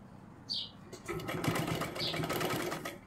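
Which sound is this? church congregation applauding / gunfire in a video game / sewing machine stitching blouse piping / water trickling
sewing machine stitching blouse piping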